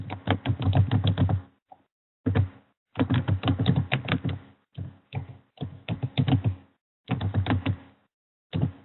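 Clattery keystrokes on a computer keyboard come in quick bursts separated by short pauses as an email address is typed, close and clear with no talking.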